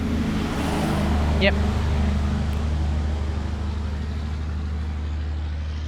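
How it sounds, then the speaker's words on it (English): A big water truck passes on a road near forest country, a loud steady low rumble of engine and tyres under a brief spoken word. "There's a big truck going up the road, so you'll hear a lot of a noise in a second."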